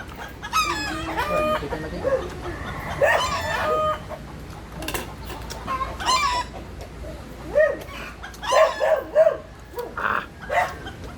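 Chickens cluck in scattered bursts while a rooster crows a few times, with a dog barking now and then; outdoors, moderately close.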